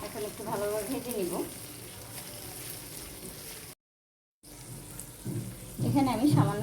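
Small native shrimp fry in oil with a steady, close sizzle, interrupted by a brief silent dropout, while a voice talks over the frying at the start and end.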